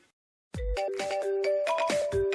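A melodic phone ringtone starts abruptly after a short silence and plays a bright repeating tune, loud and close.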